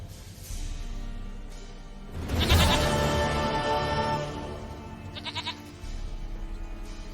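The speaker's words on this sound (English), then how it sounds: "Goat of mine, dearest," Goat in The Witcher 3 game bleating loudly in a few wavering calls, with quieter shorter bleats following.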